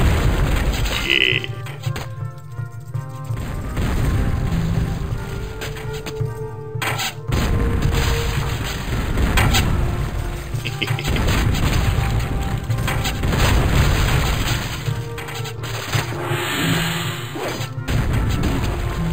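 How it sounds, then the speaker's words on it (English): Cannon blasts and crashing impacts from the strategy game Total Annihilation: Kingdoms, with repeated booms and smashes over a dense, continuous battle din, plus a brief spoken word. "But let's go back to watching cannons blow shit up."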